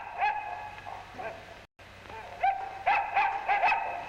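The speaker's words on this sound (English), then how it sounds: "In 1940, Electro was joined by his faithful dog Sparko." Sparko, the 1940 robot dog companion of the Electro robot, gives a series of short, clipped mechanical barks and yips, spaced in small bursts that grow busier toward the end, fairly close and clear with no talking.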